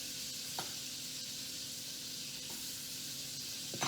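Butter sizzles in a hot pan used to sear salmon, with lemon dill seasoning nearby, making a continuous close hiss with a few faint clinks and stirring scrapes.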